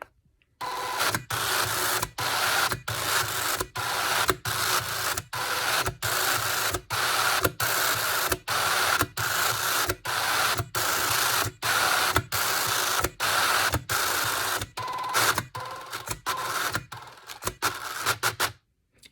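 A Canute multiline braille eReader refreshes a page with loud, rapid mechanical clattering that comes in regular bursts, each separated by a brief pause, for about nineteen seconds. The pattern turns slightly irregular near the end. No one speaks.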